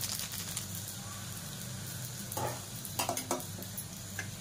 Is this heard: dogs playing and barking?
no